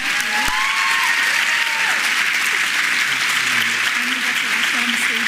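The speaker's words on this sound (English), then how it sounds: "So I think we owe it to Janet to give her a round of applause." A crowd applauds a graduate at a medical college graduation celebration, with loud, continuous clapping and faint voices and cheers mixed in.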